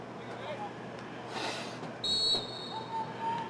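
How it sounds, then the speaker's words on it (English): A referee's whistle sounds at a high school boys' lacrosse game, one short shrill blast rising over the crowd's murmur, with a faint second tone soon after and a commentator talking underneath. "Got a whistle here."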